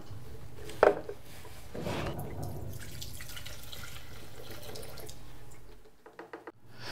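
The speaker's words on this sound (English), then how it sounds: "I'll pour it into a can and then dispose of it properly." Old fuel drained from a leaf blower pours into a can, a liquid splash and trickle running steadily for several seconds after a short clunk, then ending in a few faint drips and taps.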